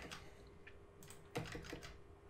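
Computer keyboard keys pressed during image editing, a handful of quiet, close clicks and taps in an irregular cluster, with no talk.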